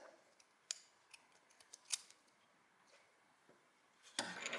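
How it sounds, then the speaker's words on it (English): Scissors snip through crochet yarn in a series of quiet, sharp clicks, close by, followed by a brief louder rustle at the end. "I'll just cut the yarn first."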